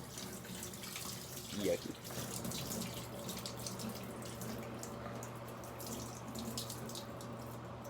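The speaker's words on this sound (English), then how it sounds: "Here's some extractor footage, dumping out what I got out of the carpets and out of those rugs" Dirty water from cleaning carpets and rugs pours out of a carpet extractor tank, a steady splashing gush into a drain, fairly quiet, with a brief spoken remark near the start.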